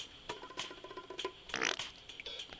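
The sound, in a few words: fart sound effect from the video game Terraria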